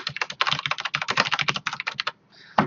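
Rapid keystrokes on a computer keyboard while a simple program is written, a fast run of close, crisp clicks with a brief pause and one final harder tap, no talking.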